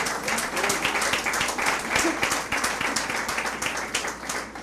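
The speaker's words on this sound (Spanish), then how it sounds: "De un aplauso al Señor." A church congregation applauding during an Easter resurrection service, a dense steady round of many hands clapping at a moderate distance, with voices mixed in.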